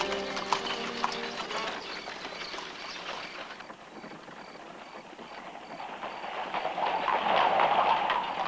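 Horse-drawn carriages travel the streets near Luxor Temple in Egypt; rhythmic clip-clop of hooves on pavement sounds at moderate distance amid street ambience, growing somewhat louder toward the end.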